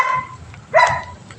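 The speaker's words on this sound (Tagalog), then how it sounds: "Huwag kang mainga, aso ka." A dog gives a single sharp bark near the microphone, preceded by a brief softer yelp, on a street in traffic.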